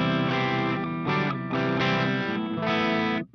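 Electric guitar played through a Friedman IR-X preamp pedal on channel 1 with all controls at noon, a loud, slightly overdriven chord riff in short repeated bursts, alone and close.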